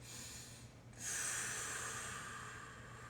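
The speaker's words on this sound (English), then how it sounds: "take one more big breath in and out through the nose" A single slow breath drawn in and out through the nose during a movement routine, a soft airy hiss that swells after a brief pause and fades gently, close and quiet.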